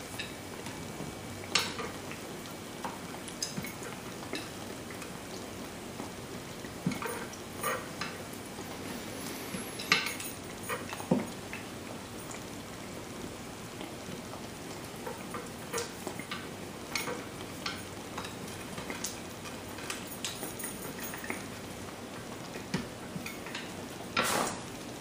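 Sweet khaja pastry frying in hot oil, a soft steady sizzle with scattered light ticks and clinks of utensils against the pan, close and fairly quiet throughout with no one speaking.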